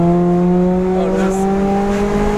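A small Mazda convertible engine revving loud and close, with a steady, strongly tonal drone like an RX-8, held evenly throughout.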